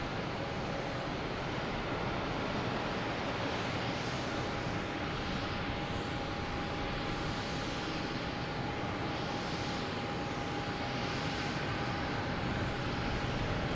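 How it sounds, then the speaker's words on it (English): A United Airlines Boeing 737 MAX 8 arriving at Boston Logan Airport at night, a steady distant jet engine roar and rushing wind noise that holds evenly throughout with no voices. "United Airlines coming in from Newark. 737 MAX 8."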